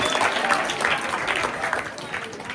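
Loud applause at a retirement function, a steady wash of many hands clapping together, with voices faintly mixed in beneath the clapping.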